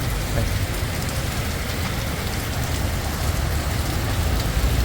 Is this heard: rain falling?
yes